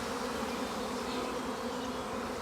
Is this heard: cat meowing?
no